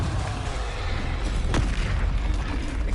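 A deep, rumbling blast from a Confringo spell in Hogwarts Legacy, loud and near, with a sharp burst partway through and a dense low roar throughout.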